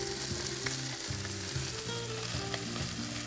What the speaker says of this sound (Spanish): Y aquí vamos a dorar las gambas.